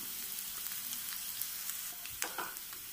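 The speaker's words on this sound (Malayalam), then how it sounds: "ഇനി നമുക്കിതിലേക്ക് സവാളയൊന്നും ഇട്ട് കൊടുക്കാം." Sliced onions sizzle and fry in hot oil in a pan, a steady close hiss with a few stirring scrapes near the end, no talking.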